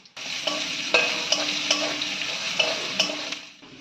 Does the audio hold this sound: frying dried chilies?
yes